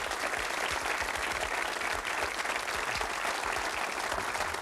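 An audience claps steadily and loudly for an Irish dancer throughout, a dense continuous wash of applause with no pauses.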